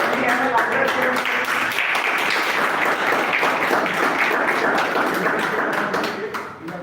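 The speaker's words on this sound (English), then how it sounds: "Can we have a louder cheer?" Toastmasters club audience applauding and cheering, a dense sustained wash of many hands clapping with voices mixed in, steady and loud throughout before tapering off at the very end.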